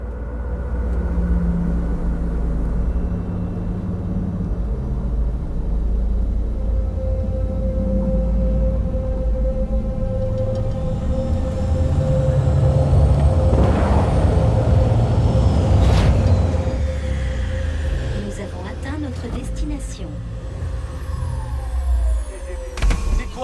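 An aerial vehicle sets down in the video game Cyberpunk 2077 with a loud, continuous engine rumble. A roaring whoosh builds midway, then thumps and clanks follow as it settles. No voices are heard.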